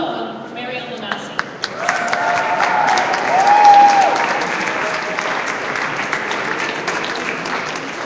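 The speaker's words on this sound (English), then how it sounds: "I really want you to give a good round of applause and warm welcome, Mary Ellen Massey." A crowd at the New Mexico State Capitol gives a warm round of applause welcoming a speaker, building into sustained clapping over several seconds while a voice speaks briefly near the start.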